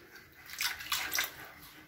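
Water is poured into a thick tomato paste fish sauce in a short splashing trickle, a few quick pulses that rise and fade within a couple of seconds.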